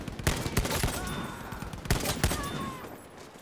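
Rapid bursts of video game gunfire from a picked-up enemy gun, loud and close, with several overlapping volleys and sharp cracks repeating through the clip.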